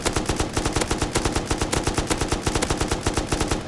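An M249 machine gun fitted with a muzzle brake fires in the video game Rust, a loud, close, unbroken stream of rapid, evenly spaced shots that runs for nearly four seconds.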